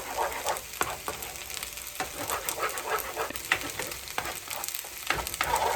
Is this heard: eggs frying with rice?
yes